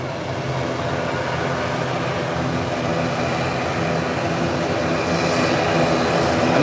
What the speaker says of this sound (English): The ATR will be parking in the middle here.